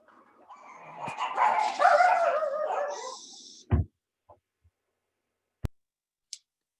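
A puppy named Clementine yips and whimpers in a rising, whiny burst for about three seconds, then gives a few short separate barks and yaps spaced apart, close by and otherwise quiet.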